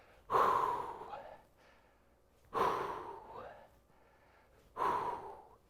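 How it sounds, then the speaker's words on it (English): Three forceful exhalations during shoulder shrug exercises with circular resistance bands, each a loud close breathy huff of about a second, evenly spaced a couple of seconds apart with quiet between. "Breathing out as you shrug up."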